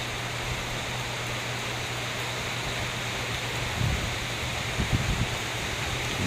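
Steady rain falling on a dark Sunday afternoon, a dense, even hiss of rainfall throughout with a low constant hum beneath and a few faint thuds.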